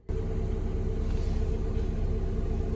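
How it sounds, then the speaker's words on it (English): A car engine running after a restart, giving off a loud, steady low rumble that comes in abruptly and then holds, close by and alone. "I just turned off my car and turned it back on"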